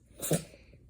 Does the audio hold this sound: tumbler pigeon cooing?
no